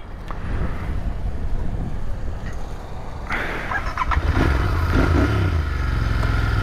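Royal Enfield Interceptor 650 twin-cylinder motorcycle (2020 BS6) riding on the road, a steady low engine rumble with wind buffeting, growing louder and rougher in the last seconds as it pulls away.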